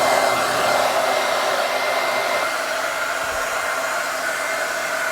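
A hair dryer fitted with a diffuser drying curly crochet hair runs with a steady, airy whooshing hum, continuous and fairly close, with no talking.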